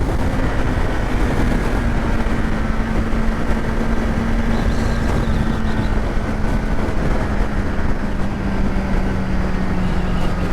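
A Kawasaki Z900 motorcycle accelerates hard in third gear, its engine a loud, steady drone with a slowly shifting pitch, heavily buffeted by wind noise throughout.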